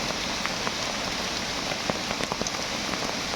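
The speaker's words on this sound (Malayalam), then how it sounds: "ഭയങ്കര മഴയും" Downpour of heavy rain in a forest, a constant loud wash of noise dotted with sharp nearby drop hits, with no voices present.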